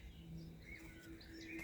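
A bird chirps faintly indoors, a few thin high tweets scattered through a quiet room with a faint steady hum.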